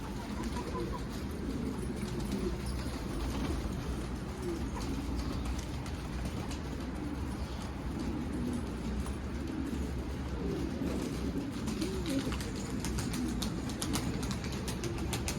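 Soft, low cooing from a sick Arab mail pigeon repeats steadily throughout, with faint background rustle and no talking.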